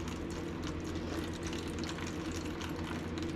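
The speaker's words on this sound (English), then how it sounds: "then we're going to add water, and we're going to let" Water poured into a seed-starting tray to soak the potting soil before sowing hibiscus seeds, a steady close splashing and trickling stream that runs unbroken with no voices over it.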